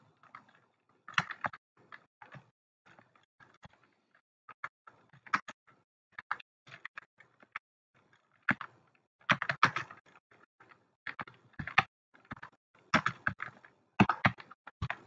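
Someone types Urdu text into a word processor on a computer keyboard, producing close, crisp key clicks in irregular bursts with short pauses between them and no talking.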